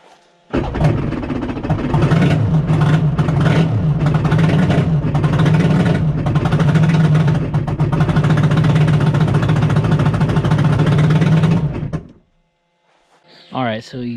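A Yamaha Wave Raider personal watercraft with a swapped 1200 triple engine and no exhaust coupler runs loud and steady with a rough, rattling drone for about eleven seconds, then cuts off abruptly, followed by a brief voice.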